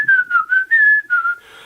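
A person whistles a Christmas song tune from the Isle of Dogs soundtrack, a clear close melody of short bright phrases broken by breath pauses, alone without talk.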